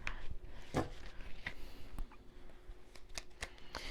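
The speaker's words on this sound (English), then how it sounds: "Okay, so I'm going to move this deck out of the way." Tarot cards in a deck being shifted aside on a table, heard as a few short, dry papery rustles and slaps, close and fairly quiet.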